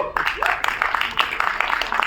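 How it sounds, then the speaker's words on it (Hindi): Indoor audience applause during an actor's career talk: a short burst of steady, dense clapping with a voice over it. "तो एक बार इस बात की ताली हो जाए"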